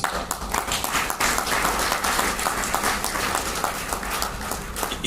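Audience applause at a memorial lecture in Nigeria, a dense, steady wash of many hands clapping that fills the whole stretch at a fairly even loudness.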